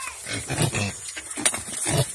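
A farm pig kept for roasting grunts and snorts in short repeated bursts close by, with rough low oinks spread unevenly across the moment and some background farmyard noise.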